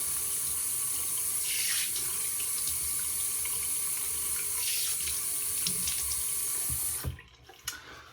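Warm water pours steadily from a tap into a sink, a loud, even rush that runs for several seconds before it stops abruptly, leaving a few brief clatters and drips.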